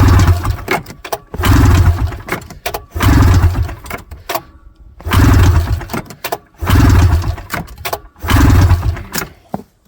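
An old Ski-Doo snowmobile engine that has sat unused for years cranks repeatedly in loud bursts of about a second each, separated by short pauses, without catching.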